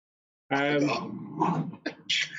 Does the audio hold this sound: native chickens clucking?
no